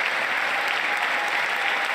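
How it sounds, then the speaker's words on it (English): Steady, dense applause from a large audience fills the chamber at a State of the Union address, loud and even throughout with no break. "At least everyone clapping for that."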